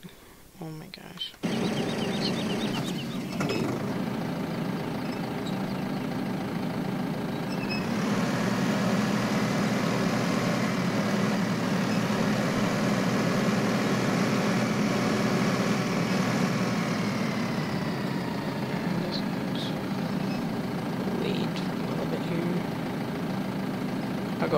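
Steady engine drone of a combine harvester idling in the Westbridge Hills map of a farming simulator game, a continuous low rumble running for the whole stretch after a brief quiet start, with speech faintly present.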